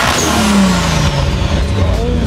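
A Nissan R35 GT-R with a flame tune revs loudly up close, its engine note sweeping down steadily and then climbing again as people talk over it.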